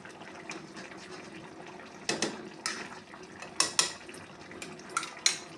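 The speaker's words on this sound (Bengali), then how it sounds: "দেখো, একটু ঘি দিয়ে দেবো।" Ghee being added to a jackfruit curry in a pan: quiet background sizzling, then a series of sharp clinks and scrapes as a metal spoon strikes the cookware, spaced irregularly over several seconds.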